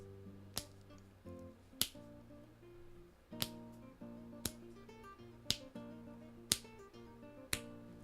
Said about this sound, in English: you guys can hear my poor attempts at snapping my fingers